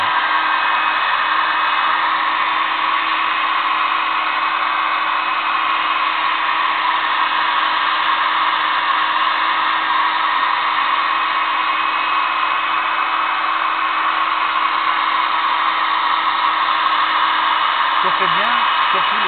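A heat gun blows on a plexiglass sheet before bending, a loud, steady airy roar that holds constant and close throughout, with a brief faint voice near the end.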